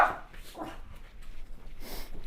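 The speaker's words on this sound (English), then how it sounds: "Too many dogs, one spot." Several dogs crowded into one spot give soft whimpers and short muffled yips, fairly faint and close, over a quiet room background with no clear talking.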